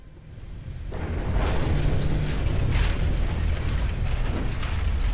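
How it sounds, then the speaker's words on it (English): Heavy battle noise in Ultimate Admiral: Dreadnoughts, a naval warship game: a dense, loud rumbling roar of booms and metallic banging swells in after a moment and stays sustained, with scattered sharper clanks on top. "Sounds like there's now additional banging and clanging noises for damage"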